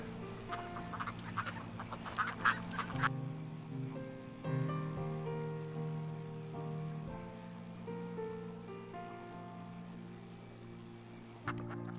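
Ducks quacking at Achikolsky Lakes, a burst of several calls over the first few seconds, then a softer, sustained chorus of calls amid gentle water and ambient sound, with a brief sharp call near the end.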